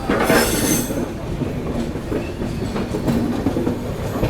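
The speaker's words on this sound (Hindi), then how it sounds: "ट्रेन जो है अपनी अभी स्किप कर रही है दोस्तों बछवाड़ा जंक्शन रेलवे स्टेशन को" The 22412 Arunachal AC Superfast passes loudly through Bachhwara Junction station in heavy monsoon rain, wheels clattering and squealing over the rails in a continuous close rush, with a bright hiss at the start.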